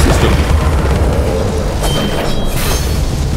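Heavy booming cannon fire from the video game Alice: Madness Returns, a deep continuous rumble with layered blasts filling the whole stretch, loud and close with no voice on top.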